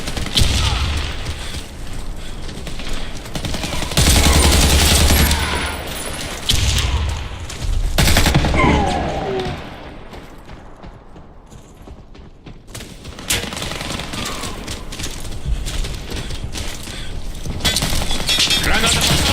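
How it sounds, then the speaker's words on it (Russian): Grenade blast and rifle fire in the Warface shooter game with a SAI GRY AR-15, heard as heavy booming bursts and rattling shots that ease into a quieter lull, then pick up again as steady firefight noise. "Кидаю гранату!"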